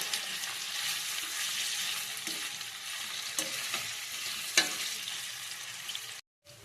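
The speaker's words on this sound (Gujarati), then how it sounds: "તેલમાં થોડા શેકી દેવાના, થોડો બ્રાઉન કલર થાય ત્યાં સુધી." Elephant foot yam (suran) sautéing in hot oil in a kadai, a continuous soft sizzle broken by occasional stirring scrapes and clicks, close and steady, with no voices.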